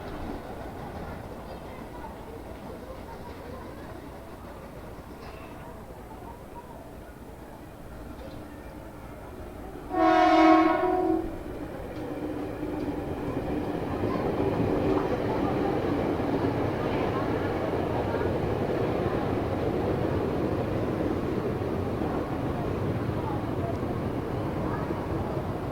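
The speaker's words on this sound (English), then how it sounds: "My train to Jakarta Kota Station is here, so let's get on board." A commuter train rumbles into a station in Jakarta, building to a steady roar, with a short bright horn blast partway through and faint chatter around.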